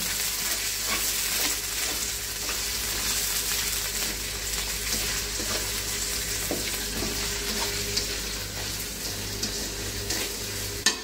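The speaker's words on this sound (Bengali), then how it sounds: "এবার আমি একটু পেঁয়াজ, রসুন, কাঁচামরিচ এটা তেলে ভেজে নেব।" Onion, garlic and green chilies fry in hot oil, giving a loud, steady sizzling hiss with occasional stirring clicks, close up and uninterrupted throughout.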